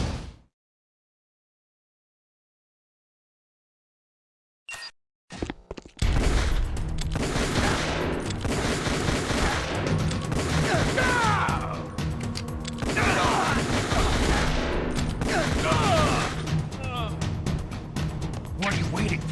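Gunfire rattles on and on in Metal Gear Solid: The Twin Snakes after several seconds of near silence, dense shots and impacts mixed with game music and character dialogue.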